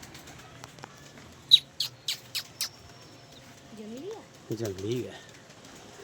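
Pigeons give a quick run of five sharp wing flaps, then coo twice with wavering calls. A brief voice speaks at the start, and the scene is otherwise quiet.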